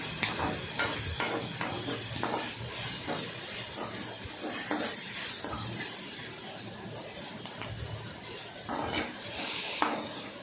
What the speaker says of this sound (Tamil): இந்த அளவுக்கு நல்லா வதக்கி எடுத்துக்கணும்.